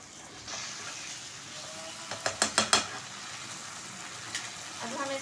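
A spoon stirs an onion, tomato and green chilli paste in a pan for aloo phalli sabzi, giving a quick run of four or five close scrapes and taps over a soft sizzle, then a lone tap later.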